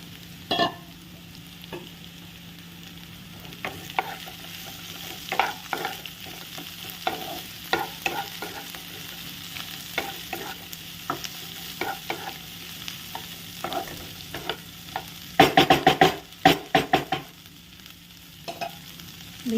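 Chopped green beans sizzle among browned onions in a pan, stirred with frequent scraping and clattering strokes that grow into a rapid burst of scraping near the end, over a steady low fry.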